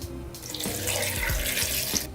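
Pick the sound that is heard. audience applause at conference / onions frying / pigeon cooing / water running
water running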